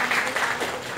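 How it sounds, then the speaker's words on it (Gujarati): An audience at a school event claps briefly, a thick burst of applause heard close and fairly loud, with faint voices underneath. "તમે બધા એના માટે તાળીઓ પાડો"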